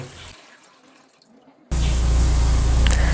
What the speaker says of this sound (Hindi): तो चिकन दाल माश कढ़ाई बनाने के लिए हम एक कढ़ाई लेंगे और उसमें पानी को डाल देंगे।